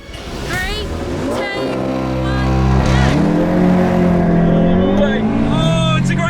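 An Audi S3 hot hatch launches hard in a drag race, its engine revs climbing in rising gear sweeps, loud and close, while people talk over it.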